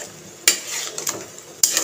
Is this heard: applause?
no